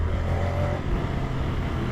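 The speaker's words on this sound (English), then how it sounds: "So some nice sounds come back through the engine and exhaust." A Moto Guzzi Stelvio motorcycle's V-twin engine and exhaust pull under acceleration on the road, a loud, steady, low throbbing drone with a faint higher tone in the first half and no voices.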